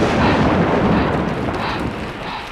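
Thunder from lightning strikes during a thunderstorm, a loud, sustained broadband rumble that rolls continuously and slowly fades, with no voices.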